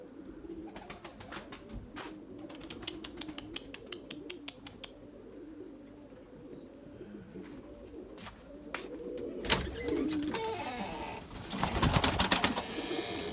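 Erzurum white breeding pigeons coo and call steadily in a loft, with brief chirps and wing flutters, growing louder and busier toward the end.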